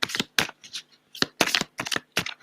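Animal tarot cards shuffled in quick, papery riffling bursts, about half a dozen short flurries separated by brief pauses, close and fairly soft with no voices.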